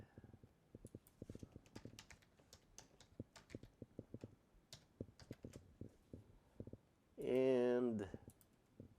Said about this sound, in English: there's something wrong with my keyboard